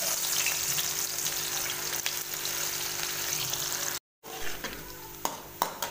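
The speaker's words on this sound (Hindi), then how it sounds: "अब हम इसमें प्याज डालते हैं, ये दो मीडियम साइज़ के प्याज थे हमारे पास, इसको हमने हल्का गोल्डन करना है" Two medium onions fry in hot ghee in a kadai, a dense continuous sizzle with light bubbling that drops out for a moment, then returns with a few sharp crackles.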